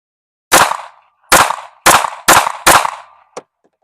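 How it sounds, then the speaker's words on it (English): Five sharp, loud pistol shots from a ported S&W M&P Competitor fired in quick succession, each a hard crack with a short decay, then a brief faint clink. "Five shots with the Competitor"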